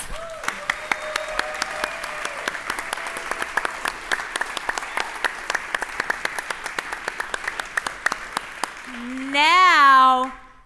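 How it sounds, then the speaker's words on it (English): A small crowd at a centennial celebration claps steadily for several seconds, sharp, distinct hand claps, and then a voice rises into a loud, wavering cheer near the end. "round of applause"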